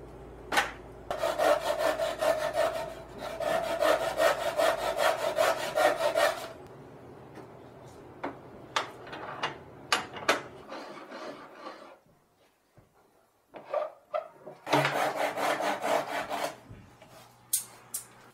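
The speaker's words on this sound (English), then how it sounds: "This fine-tooth pull saw made this a breeze." A fine-tooth pull saw trims excess wooden spline material from a glued box joint in several bursts of rapid rasping strokes, with pauses and small knocks between them, close and loud.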